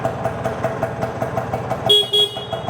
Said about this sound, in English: A DC horn that runs off the battery